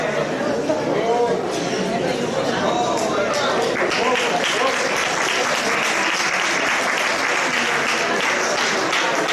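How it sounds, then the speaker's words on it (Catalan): Loud, sustained applause from a festival crowd at the election of the hereu and pubilla for the Sant Feliu de Pallerols festa major, with chatter and voices mixed in, swelling stronger after the first few seconds. "Molt bé, un fort aplaudiment, sisplau."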